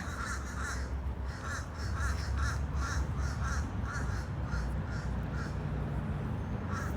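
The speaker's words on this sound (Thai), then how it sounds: "ดูนะคะดูเสียงนกเสียงกา" Many crows caw repeatedly in quick bursts, fairly close, on a Florida beach at low tide, over a steady background rush of wind or surf.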